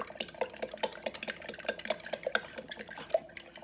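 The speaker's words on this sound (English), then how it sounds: "Now we're just going to whisk this until it's nice and aerated." Eggs beaten by hand with a whisk in a bowl, a quick steady rhythm of clicking, scraping strokes close by, with no talk.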